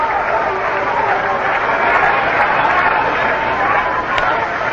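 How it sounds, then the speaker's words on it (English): Fans seated behind the Seattle Pilots dugout at a 1969 Angels baseball game keep up a steady, rhythmic applause that merges with a loud, continuous crowd roar and chatter across the whole stretch. "Harry Halo has the fans down below behind the Seattle dugout with a rhythmic applause trying to get the Angels started"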